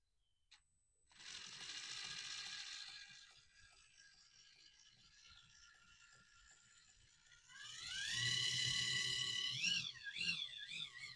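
A WPL 8x8 eight-wheel-steer RC truck runs with a whining electric motor and gear drive that rises and falls in pitch, quiet at first, then louder revving bursts near the end.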